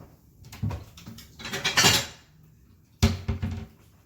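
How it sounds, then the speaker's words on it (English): A plate and dishes clatter as they are picked up and set down, a few close, bright ceramic clinks and scrapes in two short bursts with a pause between, without speech. "Let me grab a plate."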